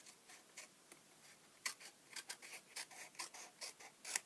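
A small pair of scissors snips through paper for an Easter flip-top box, giving a string of quiet, crisp cuts in an irregular rhythm, close and alone.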